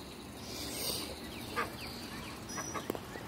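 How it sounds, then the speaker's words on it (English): Ducks and chickens outdoors, with a few short quacks and calls scattered over a steady background, moderately distant and fairly faint. "There are a bunch of two ducks and a bunch of chickens out here right now."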